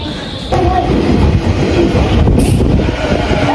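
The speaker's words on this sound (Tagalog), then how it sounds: "Hintay tayo ng train." A train arriving at a station platform in Osaka, Japan: steady loud rumble of rail cars rolling in with wheel clatter and a brief high squeal, close by throughout.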